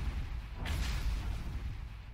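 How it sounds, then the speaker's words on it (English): Explosions of failing auxiliary power systems rumble in StarMade space combat, a deep, muffled boom swelling and lingering with a rough, low roar over about two seconds. "Those explosions are auxiliary power, I believe."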